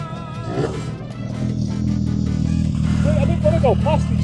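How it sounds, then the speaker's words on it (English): Two-stroke motorbike running behind a Yamaha Slider scooter on the road, a continuous buzzing engine drone mixed with the rider's own engine and wind, with a person talking over it. "Oh god, there's a motorbike behind me."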